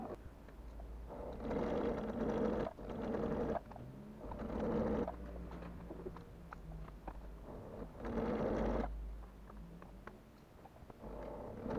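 A sewing machine stitches a fabric school pouch in several loud, steady bursts, pausing between runs, with quieter handling noises in the gaps.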